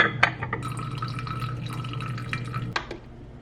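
Warm water poured into a large jar of gluten-free sourdough starter on a kitchen scale, a short splashing trickle with clinks of glass, close and clear without talk.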